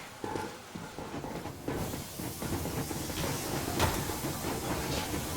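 The Yermak, a steam locomotive in the video game Metro Exodus, rolls along with a steady broadband hiss of steam and a continuous rumbling churn, one sharper clank near the end, no voices over it.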